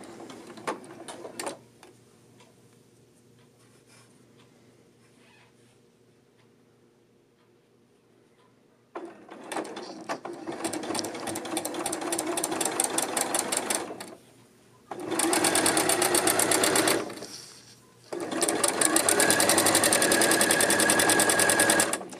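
A sewing machine stitches a tunic hem in loud, steady runs broken by short pauses, after a quieter stretch of faint handling noise at the start.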